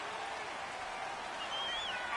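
A home stadium crowd at a football game: a dense, steady roar of cheering and applause that fills the whole clip, loud and continuous, with a commentator speaking over it.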